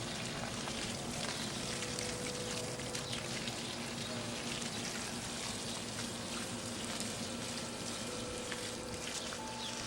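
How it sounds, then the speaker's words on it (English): Steady stream of water rinsing oil out of an oiled bird's spread feathers during cleaning, a constant close hiss and patter with no break. "Want to make sure we've really gotten those feathers rinsed out."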